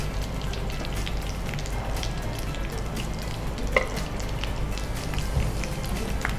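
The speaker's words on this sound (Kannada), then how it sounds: "ಹೊರಗಿಂದ ಫ್ರೈ ಆದರೆ ಆಯ್ತು." Potato cheese balls fry in hot oil with a steady, dense sizzle and crackle throughout, close and continuous.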